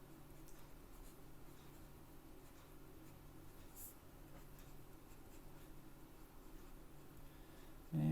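Stylus scratching on a drawing tablet while sketching in Toon Boom Harmony, faint continuous scratchy strokes with low background hum and a brief louder thump at the end.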